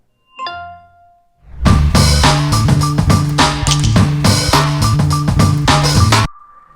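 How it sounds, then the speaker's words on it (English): iPhone power-on and power-off sounds: a brief bright chime with a quick ringing tone, a short pause, then a louder sustained layered musical chord swell that cuts off abruptly, leaving a faint lingering tone. "find your power on and power off sounds"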